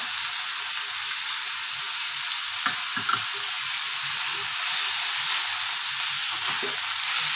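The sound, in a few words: sautéing chicken with seasoning and pepper in a pan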